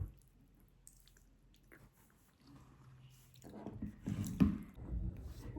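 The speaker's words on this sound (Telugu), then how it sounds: "వాటర్ తాగుతున్నాను." Someone drinking water from a bottle, with soft gulping and squishy mouth sounds, quiet at first and growing louder and more continuous toward the end, with no talking.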